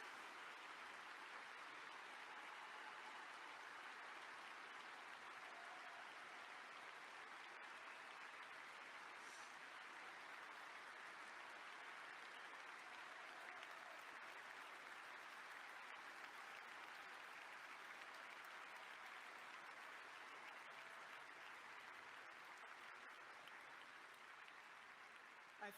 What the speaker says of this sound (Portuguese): o estádio aplaude de pé.